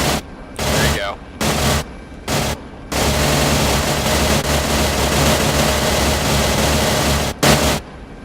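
Bursts of machine gun fire come in several short volleys, then a long sustained stretch of continuous automatic fire, loud and harsh with a radio-like static edge, and faint voices can be heard under it.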